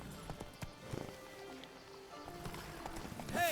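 Roach the horse trots in The Witcher 3: Blood & Wine, a steady clip-clop of hooves running close under ambient game music, with a brief whinny near the end.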